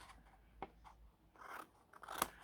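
Two or three faint, close snips of scissors cutting paper for a beginner's paper craft project, short crisp crunches in a quiet room.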